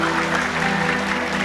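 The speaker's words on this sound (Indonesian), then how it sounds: "Ya, boleh tepuk tangan." An audience in a university auditorium gives a brief burst of steady, full applause that stays even throughout.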